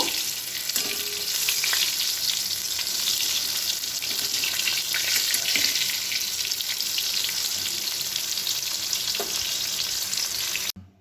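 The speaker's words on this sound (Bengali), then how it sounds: "আস্তে আস্তে পুরো বেগুনগুলো খুব ভালো করে এপিট ওপিট করে ভেজে নেব" Eggplant pieces fry in oil in a pan over a low flame, a steady dense sizzle running throughout, close and fairly loud, with a few faint clinks of stirring and no talk.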